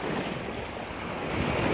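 Ocean surf washes steadily onto Queensland beach, Nova Scotia, on a spring day, a continuous roar mixed with gusty wind buffeting the microphone.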